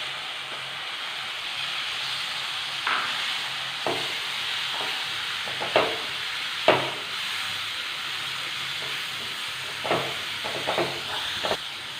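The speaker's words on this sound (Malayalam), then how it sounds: "തക്കാളി കൂടെ ചേർത്ത് നന്നായിട്ട് മിക്സ് ചെയ്തിട്ടുണ്ട്." Tomatoes stir-fried with spice powders in a pan: a soft steady frying hiss with scattered clinks and scrapes from stirring, close and moderately quiet, with no voices.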